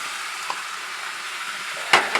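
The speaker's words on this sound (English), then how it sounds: "now that's when you add in your tomatoes." Chopped tomatoes hit a hot pan of frying capsicum, giving a steady close sizzle and hiss throughout, with a couple of sharper spatters and scrapes near the end.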